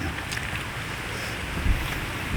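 Wind blowing outdoors at an open-air spot, buffeting the microphone with a loud, continuous low rumble and a stronger gust near the end, with no talking.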